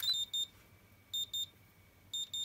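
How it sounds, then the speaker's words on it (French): A Sanwa RC radio transmitter gives a warning alert when the carburetor throttle is opened on an MBX8 buggy. Three bursts of high double beeps repeat at regular intervals, clear and close in a quiet room. "il y a un bip qui est émis pour se rappeler qu'on a ouvert le boisseau"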